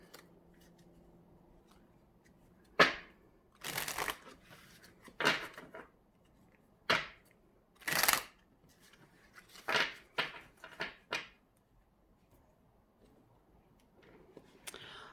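Deck of tarot-style cards being shuffled by hand in a quiet room, a series of short crisp riffling and slapping bursts spaced a second or so apart, close and alone.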